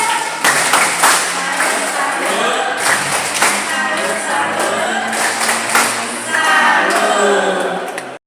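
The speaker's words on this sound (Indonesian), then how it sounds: "kita tepuk salut dulu dong buat dokter Angga" An audience at a church gathering for elderly and sick parishioners claps a patterned salute, with rhythmic clap bursts and a few voices calling out over the clapping.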